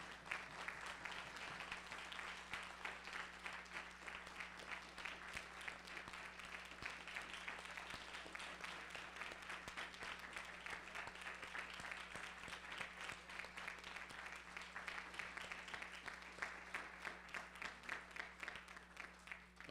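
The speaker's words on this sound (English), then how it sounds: "I want everybody to give them a round of applause" An audience applauds for the full stretch in a large room, a faint, steady, even patter of many hands over a low electrical hum, with no voices standing out.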